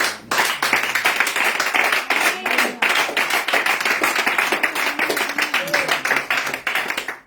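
A church congregation claps steadily and rhythmically throughout a service, with dense, continuous hand claps and faint voices mixed underneath.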